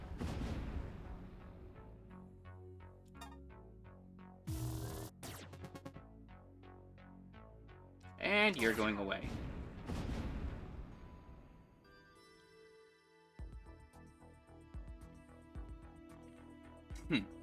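A capacitor cannon fires in a spaceship video game, with booming blasts and bursts, repeated pulsing electronic effects and layered game sounds, loud at moments and mostly on its own, with someone talking briefly.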